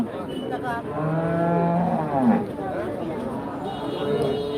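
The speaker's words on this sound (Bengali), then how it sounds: "এখানে আরেকটি গাভী গরু রয়েছে বাচ্চা সহ" A cow with her calf moos at a cattle market in Kaitala, Tangail, a drawn-out low call followed by shorter lowing, heard close amid crowd chatter and people talking.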